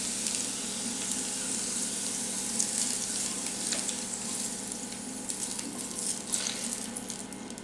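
Hot oil poured over pepper for sweet-and-sour cabbage sizzles and crackles steadily at close range, a continuous hiss with small bubbling pops and no talking.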